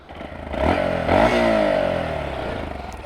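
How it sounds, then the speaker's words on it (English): A 2022 Honda Monkey 125cc motorcycle with a standard exhaust revving up from idle, two rising blips of engine roar that sweep up in pitch and hold, heard close with no talking. "listen to that engine roar."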